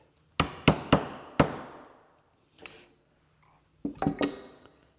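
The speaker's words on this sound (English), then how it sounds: "take an awl and mark them good" Sharp tapping strikes of an awl marking wood for a child's rocker: four quick close hits, a pause, a softer knock, then a short cluster of taps, close and fairly quiet, with no talking.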